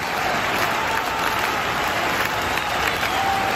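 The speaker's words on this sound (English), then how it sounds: "Listen to this crowd in Seattle." A large wrestling crowd in a Seattle arena roars and applauds, a dense, steady wall of cheering that holds at full volume throughout with no single voice standing out.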